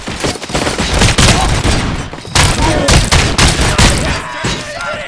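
Rapid, heavy gunfire erupts in the RoboCop: Rogue City video game, with dense overlapping bursts and booms filling the clip, loud and close, with shouted voices faintly under the shooting.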